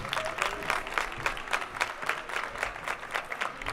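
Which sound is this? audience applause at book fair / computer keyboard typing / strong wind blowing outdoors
audience applause at book fair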